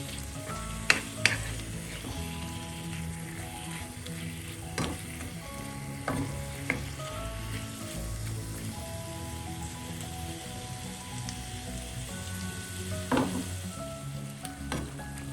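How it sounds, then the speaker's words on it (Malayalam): Prawns sauté in a pan with a steady, close sizzle throughout, broken by occasional sharp clicks and scrapes of stirring. "ചെമ്മീൻ്റെ നിറം മാറുന്നവരെ ഒന്ന് വഴറ്റാം."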